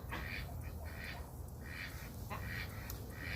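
A bunch of ducks quacking loudly and continuously nearby, overlapping calls in bursts over steady outdoor background noise with no talk.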